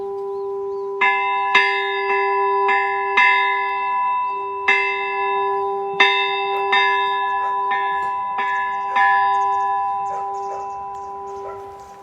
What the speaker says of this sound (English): here you have the sound of beautiful bells.